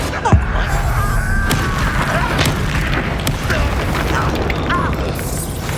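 A Confringo blasting spell from Hogwarts Legacy goes off in a sharp early boom. Scattered bursts and pops of combat follow and carry on under ongoing spoken dialogue.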